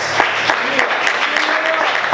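A church congregation applauds in dense, continuous clapping with a few sharper claps poking out, and faint crowd voices beneath.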